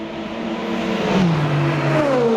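A rival race car in the Le Mans Ultimate racing game sweeps by on the left, its engine whine rising and then dropping in pitch as it passes close over steady engine and road noise.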